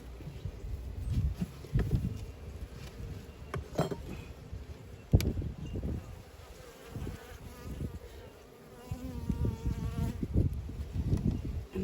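Honey bees buzz steadily around an open top bar hive during an inspection, a dense close hum with occasional light clinks and knocks from the hive bars.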